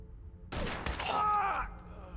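A loud shotgun blast in Fallout 4 survival mode, from a long-range shotgun, followed by a ringing, rattling tail that fades over about a second.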